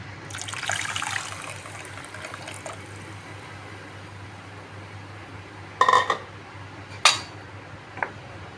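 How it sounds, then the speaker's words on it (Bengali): Bowl-rinsing water is poured into a simmering fish curry, a short splashing pour in the first few seconds followed by quiet cooking noise and a few sharp clinks of utensils near the end. "ঝুলের জন্য যে বাটি ধোয়ার জলটা আর একটু দিয়ে দিতে হবে"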